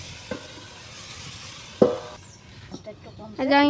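Vegetables frying in a pan are stirred with a few distinct knocks of a spoon against the pan over a low sizzle, and a voice speaks toward the end.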